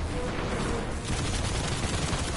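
Rapid bursts of scorch cannon gunfire in a multiplayer shooter video game, loud dense booming shots in quick succession, almost continuous for a couple of seconds with no talk.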